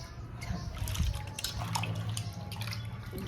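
Sliced potatoes for chips being washed in water, with soft splashing and sloshing close by, fairly faint and continuous.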